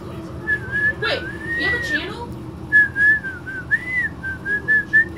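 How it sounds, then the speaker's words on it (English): A person whistles a wavering tune in short phrases, with a brief break in the middle, over a steady low game-like background hum. "I'm trying to whistle"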